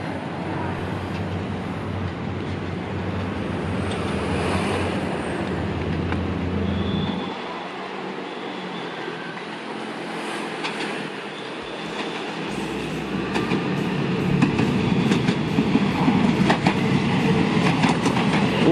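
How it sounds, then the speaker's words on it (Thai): Passenger train number 72, a Bangkok-bound express, rumbles toward and past near a locomotive depot, a loud continuous roar with clattering wheels that swells toward the end; no talking. "ส่วนขบวน72นั้นก็กำลังมาครับ"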